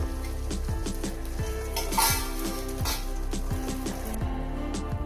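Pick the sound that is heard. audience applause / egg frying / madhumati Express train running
egg frying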